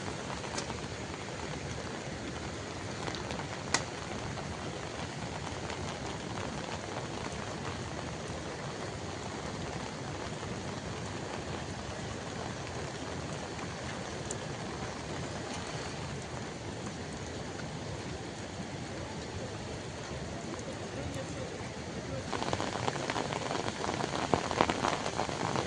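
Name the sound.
heavy rain falling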